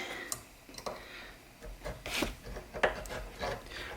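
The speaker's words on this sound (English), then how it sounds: "I'm using this fairly blunt veneer saw just to break through." A blunt veneer saw scrapes through solder on a vintage Gibson PAF pickup cover in short rasping strokes, irregular and close, with no talking.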